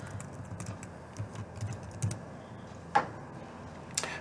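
Someone types on a computer keyboard, a quiet run of irregular key clicks with a few sharper taps, close by with no talking.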